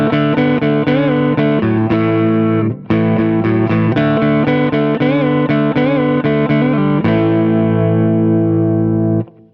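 Electric guitar run through a Walrus Audio ACS1 amp simulator with the gain cranked fully and a boost engaged, playing loud saturated chords and riffs with a short break, then a final chord left ringing out.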